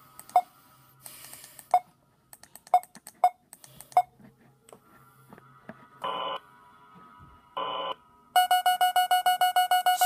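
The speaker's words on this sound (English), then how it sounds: "I kinda turned on the volume because the sensor beep is loud." A sensor beep in the video game Five Nights At Spy's: a series of sharp electronic beeps with a few longer buzzing tones, ending in a fast, loud run of pulsing beeps.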